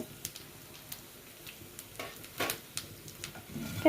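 Sesame and poppy seeds, with cumin and coriander, fry in hot oil in a pan while being stirred for chicken Kolhapuri: a quiet, steady sizzle broken by scattered light scraping clicks, with no talking.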